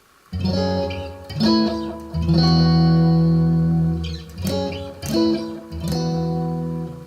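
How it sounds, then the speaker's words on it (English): Electric guitar through a Decibel Eleven Pedal Palette Hot Stone Deluxe, drenched in a fully wet modulation effect, swirling and warbling through sustained chords and notes, loud and up close with no talking. "you're going to hear a fully wet modulation signal"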